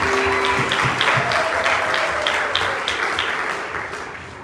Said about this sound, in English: Let's give the Lord a hand clap offering of praise tonight.